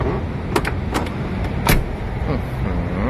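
A storage drawer in the cab of a Scania G410 Streamline truck is pushed shut, giving a few sharp knocks and clicks over a steady low cab rumble, fairly close.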